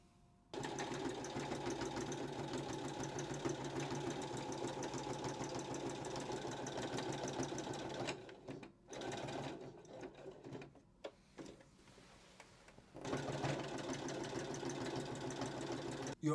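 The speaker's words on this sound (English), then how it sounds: "literally sew from your hem all the way along to your cuff" A sewing machine stitches the long side and underarm seam of a kimono jacket from hem to cuff, running steadily for about eight seconds, then stopping and starting in short bursts before a final continuous run.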